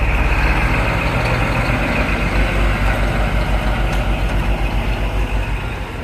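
A heavy truck backs slowly into an Irish farmyard, its diesel engine rumbling loud and steady throughout with a faint air-brake hiss and a few high beeps near the middle.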